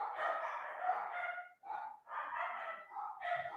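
Several dogs barking in the background, a steady run of rough yips and barks with brief gaps, fairly faint and distant, with no voices over them.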